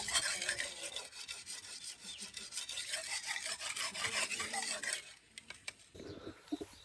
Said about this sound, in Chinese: 割草呢就是把刀先磨一下